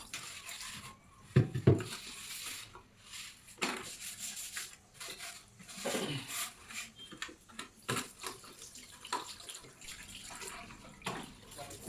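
A clay water pot (matka) is rubbed and scrubbed by hand with water to clean off dust, giving soft intermittent splashes, trickles and rubbing scrapes, fairly quiet and close, with occasional faint talk.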